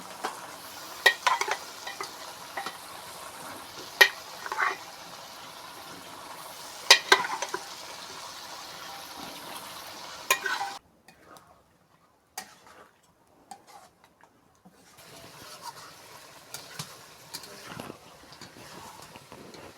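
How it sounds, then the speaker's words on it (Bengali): Mutton being sautéed with turmeric, salt and spices in a kadai, village-style cooking: a faint low sizzle punctuated by sharp spoon clinks and scrapes, dropping to near quiet midway before sparse stirring resumes. "এখন মাংস কষানো হচ্ছে।"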